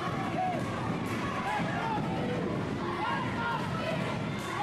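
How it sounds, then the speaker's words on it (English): A hometown wrestling crowd roars in a constant dense wash of cheering and shouting, while a commentator speaks over the noise. "The crowd's going bananas."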